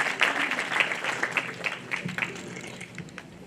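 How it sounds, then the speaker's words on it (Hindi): An audience at a college annual prize distribution ceremony breaks into sustained applause for the Chief Minister, a dense wash of many hands clapping at close range, tapering slightly toward the end. "जोरदार तालियों से उनका अभिनंदन करें।"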